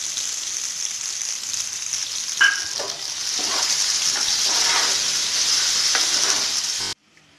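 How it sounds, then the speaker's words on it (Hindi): Sliced onion and green chilies sizzle and fry in a hot pan, a steady close crackle with a brief clink partway through before it cuts off. "प्याज मैंने स्लाइस में काटा है इसको, साथ में हरी मिर्ची डाल देते हैं।"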